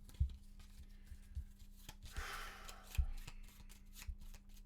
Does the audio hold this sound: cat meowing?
no